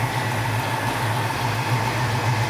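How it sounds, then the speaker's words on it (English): A 1967 Pontiac Firebird with a four-barrel carburetor idles steadily close by, a low, even rumble with no talk over it. "The engine seems to run really well."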